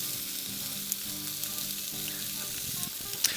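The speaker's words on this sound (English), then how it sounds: "I want to show you what this sear looks like" Chicken drumsticks, butterflied, sear over direct fire on a barbecue grill, giving a steady close sizzle with small crackles and pops throughout.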